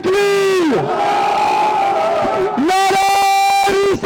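A large rally crowd at a Lahore sit-in protest chants slogans in unison, a loud sustained roar of massed voices rising and falling in two long shouted calls.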